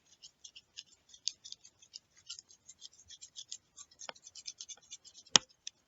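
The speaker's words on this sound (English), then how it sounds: "Let me erase it real quick" A math teacher erases handwritten equation-checking work, probably with a stylus or eraser on a tablet or board, producing a quick series of short, quiet scratchy strokes in an irregular rhythm, close up and alone, with one sharper tap near the end.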